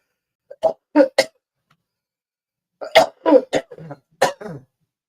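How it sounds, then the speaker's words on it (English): Several short, sharp coughs in two clusters, close and loud, separated by a brief silence. "I wasn't coughing until I started talking."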